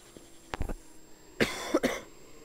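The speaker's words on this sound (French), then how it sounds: "Excusez-moi si je tousse, si vous entendez ça sur la vidéo." Several dry coughs nearby, a short burst early on and then a louder pair a moment later, with no talking.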